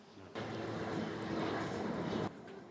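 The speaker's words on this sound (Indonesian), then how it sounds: "Di landasan Lanudal Juanda, sebuah pesawat Cessna C208 dengan nomor registrasi PKSNM disiagakan" A Cessna C208 aircraft stands on the runway at the Juanda naval airbase during a weather modification operation. A steady, loud engine roar rises abruptly, holds for about two seconds, then cuts back down.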